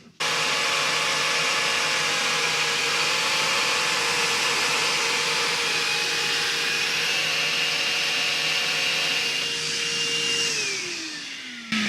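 A bargain small HEPA workshop vacuum runs steadily with its hose attached, a loud continuous whine and motor drone that holds for most of the time before the pitch sags and winds down near the end.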